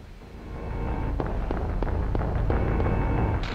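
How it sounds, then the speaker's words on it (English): Gunshots from a handgun in the video game Silent Hill ring out as a handful of sharp cracks spaced roughly half a second apart over a loud, constant rumbling background. "I'm gonna have to use my gun."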